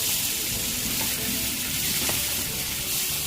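Prawns frying in a pan for prawn malai curry, a steady loud sizzle with continuous crackling hiss and no pauses.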